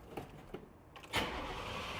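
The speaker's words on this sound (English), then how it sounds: "this is the cold start of the 66 Toronado" 1966 Oldsmobile Toronado engine on a cold start: a few faint clicks and cranking pulses, then the engine catches with a sudden burst and settles into a steady, fairly close running rumble.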